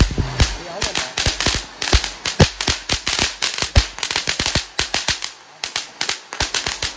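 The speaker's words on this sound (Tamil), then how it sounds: "இது புஷ்வானத்துலேயே ட்ரை கலர் புஷ்வானம் தான் ட்ரை பண்ணி பார்க்குறோம்." A tri-colour flowerpot firework (pushvanam) from Sivakasi fires off a long run of sharp, loud crackles and pops in an irregular rapid rhythm, close by.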